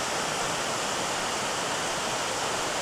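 Waterfall in a Central Montana forest, a constant broadband rushing roar of falling water, close, steady and alone.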